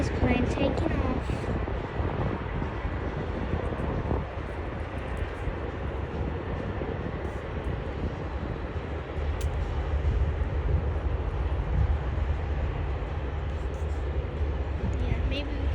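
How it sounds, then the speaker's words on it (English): A Qantas plane taking off near Sheps Mound and Nigel Love Bridge by Sydney Airport, a broad, steady engine rumble heard at a distance throughout, with outdoor background noise. "A Qantas plane taking off."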